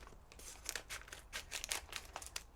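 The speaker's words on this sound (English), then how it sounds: "I'm going to cut open the sausages" Sausages being cut open in their plastic packaging with a knife, giving quiet crinkling and tearing rustles in short irregular bursts, close and soft, with no speech.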